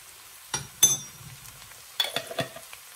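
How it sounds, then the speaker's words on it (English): Spoon stirring turmeric through an aubergine and chickpea bhuna in a pan, a few soft scraping strokes and light clinks against the metal, quiet and close, with a faint sizzle between. "just slowly stir that in"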